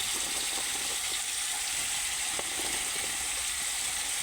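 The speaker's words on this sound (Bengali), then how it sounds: "কড়াই দিয়ে ভালো করে এটা নুন দিয়ে হালকা করে ভেজে নেবো আগে" Sliced white ridge gourd and potato, salted, fry in oil in a wok with a continuous, even sizzle close by, dotted with faint crackles and soft stirring ticks throughout the short stretch.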